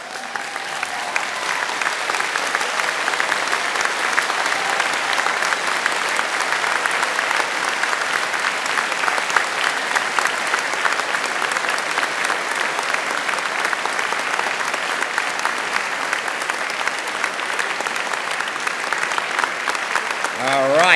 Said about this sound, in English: find them in the audience, and give them a big round of applause